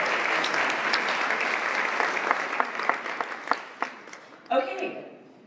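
Audience applause at a racial justice awards breakfast starts full and thins into scattered claps before a short final burst.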